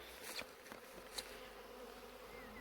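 A faint, continuous buzz of a honeybee swarm around a new hive in the morning, with a few individual bees passing close by.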